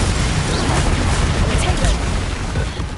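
A Confringo blasting curse explodes in the Hogwarts Legacy video game, a loud, dense booming burst sustained through the whole moment amid ongoing battle noise.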